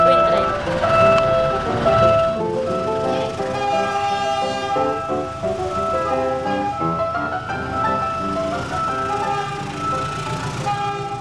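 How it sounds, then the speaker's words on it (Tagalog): A train rolls in with a loud, steady rumble, and a horn sounds in repeated tonal blasts as it nears, with a voice speaking over it. "Parating na po yung train."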